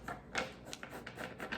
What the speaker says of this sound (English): so I'm just gonna shuffle my cards